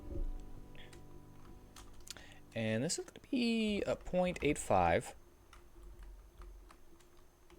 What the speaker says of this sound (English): I'm gonna actually start typing a little bit now